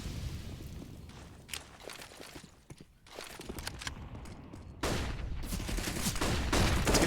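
AK rifle fire in Counter-Strike on the Inferno map, rapid bursts of sharp gunshots in quick clusters, growing louder and denser toward the end.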